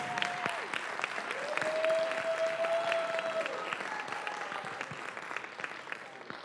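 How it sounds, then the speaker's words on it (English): At a school board meeting, an audience applauds steadily and moderately loud throughout, with a few raised voices and a whistle-like tone rising over the clapping. "I'm asking you to please applaud right now for this young lady"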